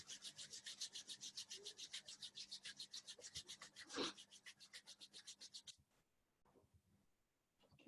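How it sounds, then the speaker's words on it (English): Hands rubbed briskly together during a morning qi gong routine, a steady rhythmic swishing of about twenty quick strokes, close and moderately loud, which then stops, leaving quiet room sound. "rubbing your hands"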